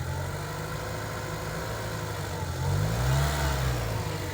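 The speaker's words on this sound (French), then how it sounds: "Et vous voyez le moteur, il tourne impeccable là." Renault Mégane 1 coupé phase 2, cold, with 257,000 km, idling with a steady low engine hum, then a gentle brief rise in revs midway before settling back, heard close with no talking.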